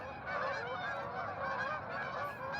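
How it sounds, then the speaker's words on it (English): A flock of Canada geese honking together in a continuous, overlapping chorus, moderately distant and steady throughout, while fishing for trout in southeastern Minnesota. "There's the Canadian geese now."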